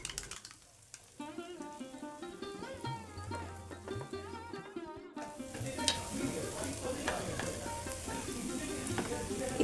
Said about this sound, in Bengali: এবারে আমি কিছুক্ষণ একটুখানি ভাজা ভাজা করে নেব।